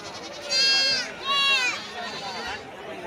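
Two loud, wavering bleats from a goat close by at the weekly sheep and goat market in Mydukur, followed by fainter bleats under murmuring voices and outdoor bustle.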